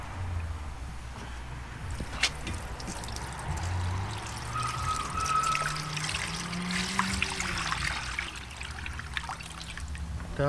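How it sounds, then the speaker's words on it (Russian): Cold water pours and trickles over a boiled beef tongue in a steady, close splashing stream, with small clinks and a brief whistling note partway through. "И обливаем холодной водой."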